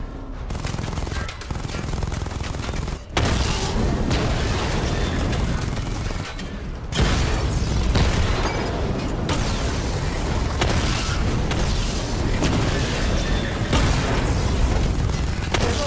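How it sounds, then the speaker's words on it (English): Missile barrage strikes from the Batmobile in Batman Arkham Knight, a dense, continuous roar of explosions and rapid gunfire broken by a couple of brief gaps, loud and close throughout. "Charge the missile barrage to level 2 to destroy up to 4 targets at once."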